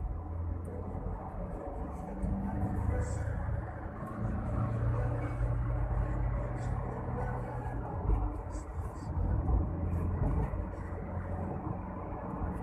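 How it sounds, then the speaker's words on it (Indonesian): Steady roar of heavy trucks and traffic rolling along a wide asphalt village road in East Aceh on an overcast early morning, a continuous low engine and tyre rumble that swells as vehicles pass. "Nampak banyak truk-truk di pagi ini."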